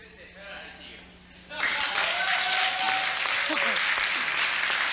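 Applause from a university lecture audience swells suddenly after quiet murmuring and continues as loud, sustained clapping with a few voices mixed in.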